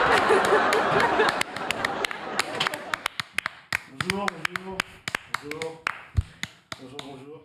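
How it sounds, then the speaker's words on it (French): Sharp, irregular claps ring out one after another at a live event celebrating The Witcher's 15th anniversary. Voices chuckle and talk between them, and a dense burst opens the clip. "On peut l'applaudir"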